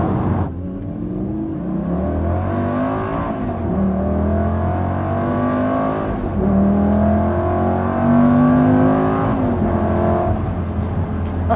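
Aston Martin Superleggera cruising on the road, a loud, continuous engine drone with whining transmission tones rising and falling, plus steady road rumble heard from inside the cabin.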